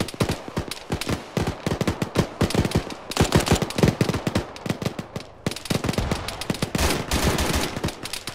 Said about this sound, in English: Hey, he shot at me.